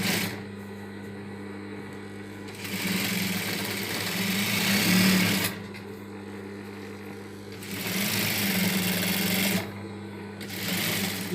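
A sewing machine stitches together pieces of a small child's suit in several bursts, its loud steady whir rising and falling as it starts and stops, with a constant hum in between.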